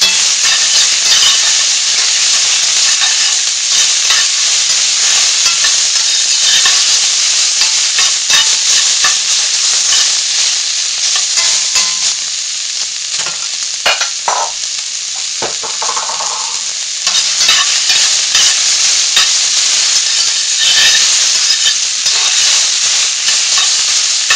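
Vegetables added to browned onions fry in a pan for a vegan tofu scramble, giving a loud, steady sizzle and hiss that runs throughout, with occasional stirring noises.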